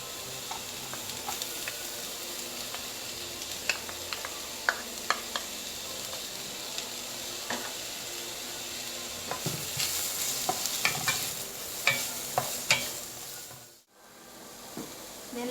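Garlic and ginger sizzle and crackle steadily in a pan for chicken tinola, with scattered metal spoon scrapes and taps as they are stirred, close and continuous throughout.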